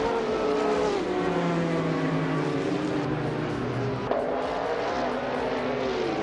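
Race cars at the start of an SCCA race, a classic 1994 Ford Mustang Cobra among them, roar together in a steady, loud engine drone whose layered pitches climb and shift as they accelerate, with no talking.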